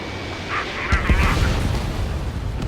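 Missile launches and explosions in the combat flight game Ace Combat 7 arrive as a muffled burst about a second in, followed by a continuous deep rumble of booms and jet noise that stays loud to the end.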